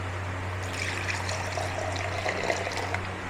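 Cold water from a clay jug trickles and pours into a raw mango sharbat, a light continuous splashing stream over a low steady hum, with no voices.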